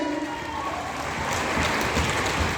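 Audience applause at a business seminar, dense clapping that swells and grows louder about halfway through, with crowd noise mixed in.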